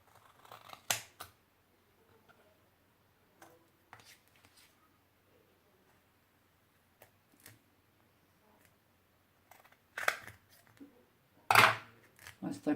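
Scissors make sparse, sharp snips while small boxes are decorated, with quiet gaps between cuts and a louder cluster of snips near the end.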